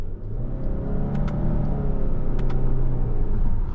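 A 2020 Subaru Ascent Touring with a CVT drives along, steady engine drone and road rumble rising smoothly, with a couple of faint clicks inside the cabin.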